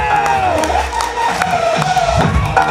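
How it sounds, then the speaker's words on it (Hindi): A large audience in a hall cheers and whoops at a motivational leadership event, a loud continuous crowd roar with shouts rising over it for the whole stretch. "एक बार दमदार ताली दीजिए।"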